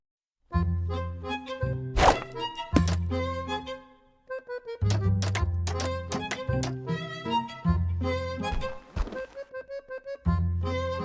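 Bells and metallic clangs ring in a bell and bones match in the video game Whateverland, a series of bright struck tones with decaying rings, some overlapping, in irregular bursts separated by short pauses, loud and close.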